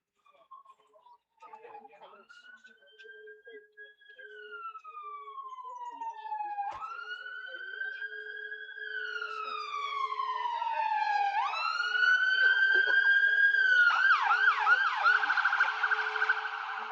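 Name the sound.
fire engine siren passing, heading for the town centre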